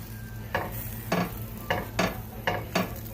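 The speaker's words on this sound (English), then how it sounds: "we're going to smash the tomatoes and blend this all together" Roasted tomatoes and garlic are smashed and stirred in a baking dish, six or seven moist, squelching strokes coming at a steady pace over a low background hum.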